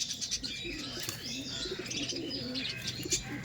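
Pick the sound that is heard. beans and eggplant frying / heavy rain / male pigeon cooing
male pigeon cooing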